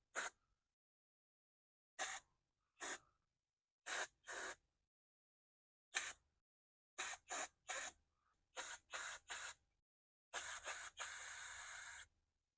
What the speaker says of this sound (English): spray it right there on that little check ball